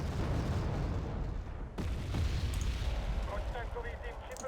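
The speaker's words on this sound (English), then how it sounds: "Artillery firing from possibly there." Artillery fires in the video game Wargame: AirLand Battle, with loud, deep booms and rumbling blasts that roll on for a while and leave a sharp impact in the middle.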